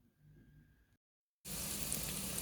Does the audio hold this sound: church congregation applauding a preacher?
no